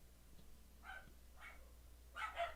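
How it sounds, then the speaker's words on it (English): Dogs in a house bark as someone comes in, a few short, fairly faint bursts spread out with a louder pair near the end, heard at a distance indoors. "they will be barking, there's someone entering the house"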